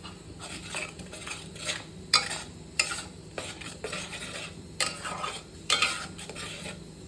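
A spatula stirs and sautés rajma masala in a pan over a medium flame, scraping against the metal in repeated sharp strokes over a soft, steady sizzle, with no voices.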